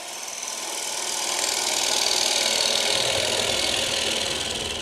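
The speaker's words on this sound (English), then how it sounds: "Notice the motion of the gouge. It's being swept through in an arc." A gouge cutting a wooden bowl on a lathe gives a steady, loud, continuous broadband whir and hiss that swells slightly and holds throughout, with no pauses.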